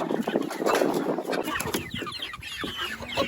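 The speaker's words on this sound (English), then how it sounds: "We have just some hens that we hatched out of our incubator in here" Young hens hatched in an incubator cluck inside a chicken coop, a close, continuous jumble of soft clucks and chirps over a noisy, rustling background.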